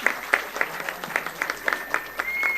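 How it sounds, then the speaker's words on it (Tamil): An audience at a classical dance arangetram ceremony claps in scattered, moderately close applause that stays light and uneven, without talk over it. "கைதட்ட மாட்டீங்களா?"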